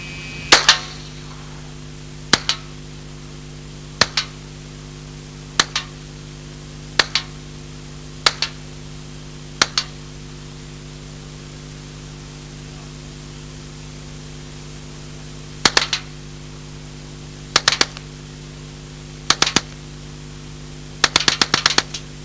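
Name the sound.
Alan Halla 1977 experimental low recoil SMG firing semi-automatic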